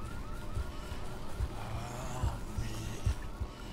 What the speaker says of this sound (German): Könnte irgendjemand die Sirene abstellen?